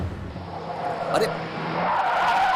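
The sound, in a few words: car driven recklessly, skidding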